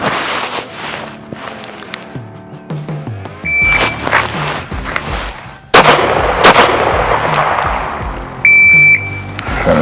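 Pistol shots from an advanced qualification drill, drawn from the holster and switched to the weak hand; a few sharp, loud reports ring out with echo, and a timer beeps briefly.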